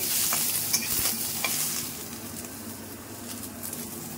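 Cut ginger pieces, added after garlic, sizzle and fry in a pan, with a steady crackle and a few stirring scrapes early on.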